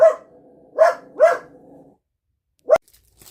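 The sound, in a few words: dog barking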